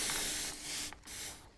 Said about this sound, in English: I have a water spray bottle